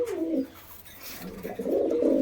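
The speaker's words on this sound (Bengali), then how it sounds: "আপনারা দেখুন পায়রার কোয়ালিটি, ডাকটা দেখুন, একদম গরম ডাকের পায়রা" Roller pigeon cooing in two close, soft bursts, with a short quiet gap between them and no talk over them.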